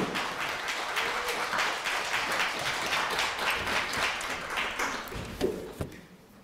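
A church congregation at a national prayer rally claps steadily for a pastor's arrival, a dense even patter that holds for several seconds, then thins out with a few last thuds near the end.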